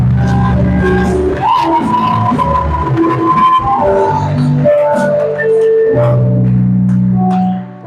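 A church congregation cheers and acclaims loudly, with sustained shouts, whoops and voices singing out together in a dense, reverberant swell that carries on for several seconds before easing off.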